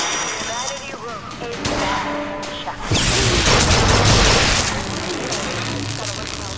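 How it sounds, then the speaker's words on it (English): Gunfire in the video game Bioshock Infinite, loud booming shots and crashing blasts mixed with game sounds, while a person talks over the action. "Wow, this gun is awesome!"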